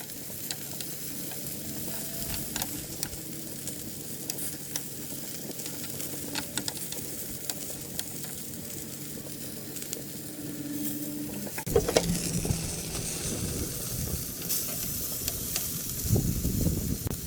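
Impossible vegan bratwursts sizzle on a grill, a steady close crackling fry with scattered pops and hiss, growing a little louder and busier toward the end, with no talking.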